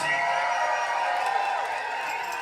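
A crowd at a concert-style festival fundraiser cheers and claps for the band, a loud wash of shouting, whoops and applause from a packed room.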